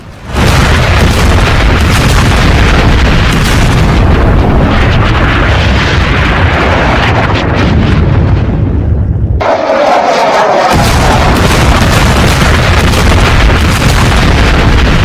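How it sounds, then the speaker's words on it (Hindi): Thirty missiles striking a target in news footage of the Israel–Iran war, heard as a continuous, very loud roar of overlapping blasts and booms with a brief drop near the middle before the rumbling resumes, with no talking. "एक बार एक साथ 30 मिसाइलें दागी गई हैं।"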